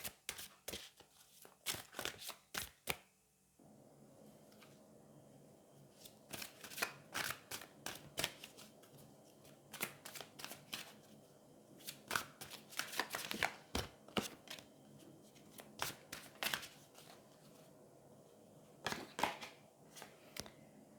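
Angel oracle cards are shuffled and drawn close by, in quiet bursts of sharp riffling clicks and flicks that repeat irregularly, with no talk.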